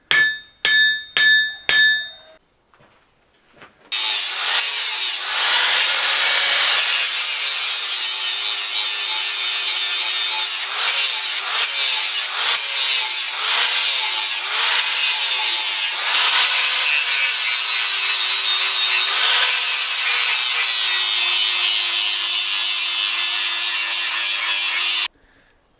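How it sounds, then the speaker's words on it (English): A grinder cleans up a forged carpenter's axe head in one loud, sustained metallic whine that rises and dips as the wheel is pressed on and eased off, after a few brief sharp taps at the start. "So we're gonna do most of the cleanup work. Yeah, with the grinder."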